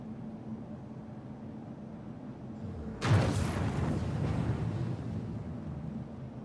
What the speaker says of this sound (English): I think it's the fireworks.